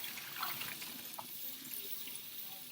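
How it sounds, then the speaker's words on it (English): Pasta water poured from a pot into a sink while straining pasta, heard as a steady, fairly faint broadband rush of splashing water lasting throughout. "and then you strain your pasta."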